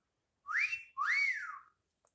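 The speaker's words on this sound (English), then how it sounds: "Whistle." The Whistle ringtone on a ZTE Majesty smartphone: two clear rising-and-falling whistled notes in quick succession, clean and close with silence around them.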